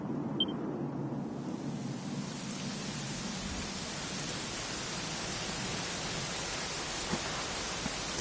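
Steady rainfall in the video game Dragon Quest XI, a continuous even hiss of falling rain that fills the whole stretch with no voices.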